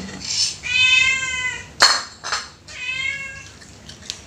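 A cat meows repeatedly while being fed fish at a noisy dinner, with several drawn-out close meows, a sharp clatter of dishes midway, and light background sounds.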